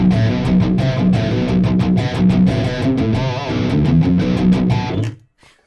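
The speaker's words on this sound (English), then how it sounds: "this is the sound of the amp in the ISO booth" An electric guitar driven through a loud tube amplifier in an isolation booth plays a dense, distorted riff with sharp rhythmic attacks, then cuts off abruptly into near silence.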